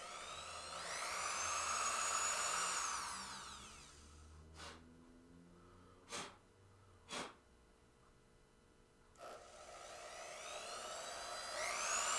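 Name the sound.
drilling into a new pinball playfield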